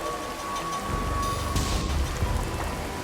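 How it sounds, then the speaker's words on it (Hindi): Steady heavy rain pours down with a low rumble of thunder beneath it, a constant wash of drops filling a dark horror story scene on a deserted road near a village at night. "ये बारिश तो रुकने का नाम ही नहीं ले रही है"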